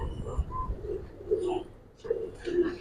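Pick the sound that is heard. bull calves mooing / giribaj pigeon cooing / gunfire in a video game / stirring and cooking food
giribaj pigeon cooing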